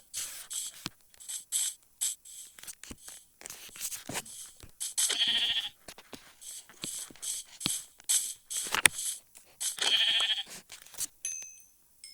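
Two short synthetic Minecraft sheep bleats sound a few seconds apart amid clicky game effects and tapping, fairly quiet overall.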